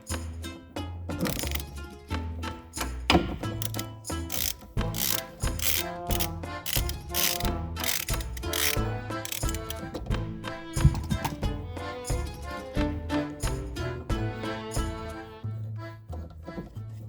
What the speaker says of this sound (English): Then unbolt this bolt.